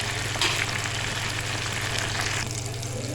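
Chicken pieces coated for KFC-style fried chicken sizzle steadily in hot oil in a home kitchen, a close, dense crackling hiss that runs unbroken throughout, with no talking.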